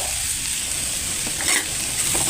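Curry leaves added to hot oil over an ivy gourd fry, a dense steady sizzle and crackle close up with a brief louder burst midway.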